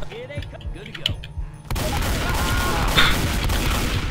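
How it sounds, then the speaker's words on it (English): Gunfire in Left 4 Dead 2, a continuous dense roar of shots and booms in the second half, preceded by scattered clicks and muffled noises; loud and sustained. "Can you stop shooting me?"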